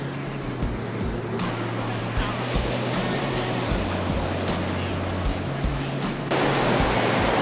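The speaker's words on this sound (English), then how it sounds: "We're at the beach." Ocean surf breaking on the beach at Tybee Island, a steady loud wash of waves with broadband rush, close and continuous, with low wind rumble and no talk.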